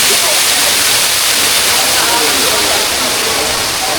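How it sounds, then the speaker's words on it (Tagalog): Water rushes down from a mountain, likely past a swimming spot, making a loud, steady roar that fills the whole clip without a break. "Lagaslas. Running water. Oh, lakas ng tubig oh. Lakas ng tubig mula doon, galing bundok oh."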